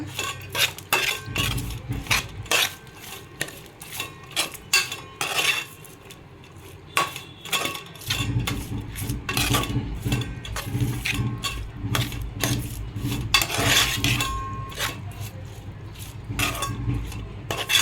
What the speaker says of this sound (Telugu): బాగా కలుపుకోవాలి ఇలా